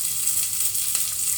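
Ingredients sizzle in a pan as they fry until reddish, a brief, steady crackling hiss close by with no voices.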